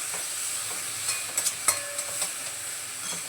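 Beans stir-fry in a pan over a gas flame, a soft steady sizzle broken by a few quick scraping knocks of the spoon in the middle.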